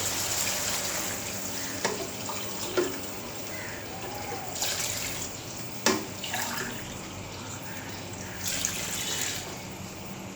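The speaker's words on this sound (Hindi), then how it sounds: "तो मैं इसमें डबल पानी डलता है" Water pours and splashes steadily into a cooking pot while making chicken pulao, with a few clinks and bumps of metal.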